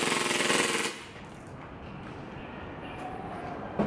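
KSC KWA CZ Vz 61 airsoft gun fires a rapid full-auto burst lasting under a second, dense and loud, then cuts off into quiet room tone with a faint click at the end.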